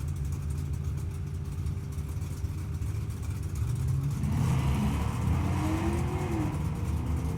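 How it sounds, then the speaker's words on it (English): Fourth-generation Chevrolet Camaro at a Drag Week drag strip, its engine rumbling steadily, then revving and roaring louder from about four seconds with a rising whine, heard from a moderate distance with no talking. "The Camaro in the left lane, dialed 1190, taking on Jeff Lubar"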